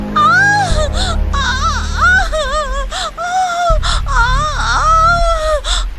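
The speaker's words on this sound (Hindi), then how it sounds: "माधवी की दर्द भरी चीखें और रोने की आवाज कपिला सुनती है" An animated cartoon woman screams and cries in pain, with loud, drawn-out wavering wails broken by sharp gasping breaths, several sobbing cries in a row close to the listener.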